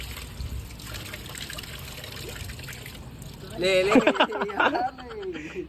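Water runs from a pipe into a bucket while food is washed outdoors, a steady low trickle and splash throughout, with voices talking over it in the later part.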